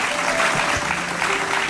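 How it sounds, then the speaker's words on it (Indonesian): Audience applause for painters at an Indonesian talk show, a dense steady patter of many hands clapping, loud and close throughout, with a faint voice murmuring underneath. "tepuk tangan buat mereka semua"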